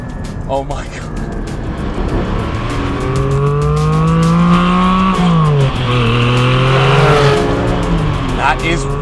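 A Porsche 718 Spyder engine revs hard, rising and falling in sharp sweeps and gear changes from close by, with brief tire noise, while a voice talks over it.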